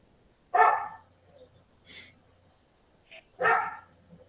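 A dog barks in three separate bursts over a few seconds, fairly close and loud, with a brief faint voice between them.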